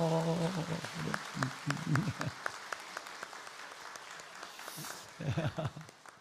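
A church congregation claps in brief applause during a Sunday service, moderately loud and scattered. Someone speaks over the start, and talk resumes afterward.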